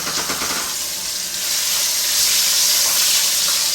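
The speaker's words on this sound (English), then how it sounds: "So the next step will be to sear the oxtail" Oxtail searing in a hot pan gives a close, steady hiss and sizzle that swells louder and denser partway through, with no talking.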